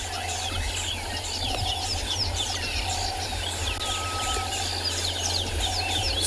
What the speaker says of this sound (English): You'll hear that there's a whole bunch of alarm calls that are taking place from birds.